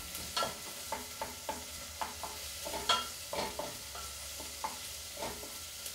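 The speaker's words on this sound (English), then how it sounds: "You want to turn that down to low and just gently mix them up" A utensil gently stirs onions and garlic in a pan over low heat, giving a steady series of soft scraping taps, roughly two per second, over a faint continuous sizzle.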